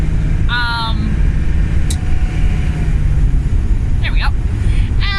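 A 1986 Ford Mustang Foxbody convertible pulls up a highway hill after a downshift out of overdrive, its engine a loud, steady low drone with heavy road and wind rumble, while a voice talks over it in short bursts.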